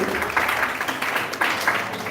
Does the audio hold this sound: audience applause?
yes